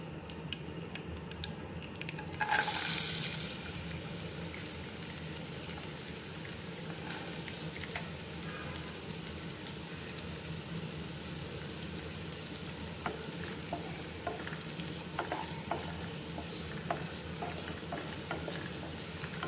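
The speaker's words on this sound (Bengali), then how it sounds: "একটি প্যানে এখন তেল দিব তেলটা গরম হলে পেঁয়াজ দিয়ে দিব" Onions frying in hot oil in a pan, a dense steady sizzle that flares loudly as they hit the oil early on, then settles into continuous close crackling with faint stirring scrapes and no voices.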